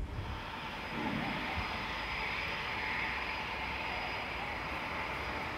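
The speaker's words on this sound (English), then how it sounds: "Several interceptors approach the aircraft." Steady, distant roar of military interceptor jets closing on a cargo aircraft during a NATO air defence drill, a continuous broad engine rumble with no talk.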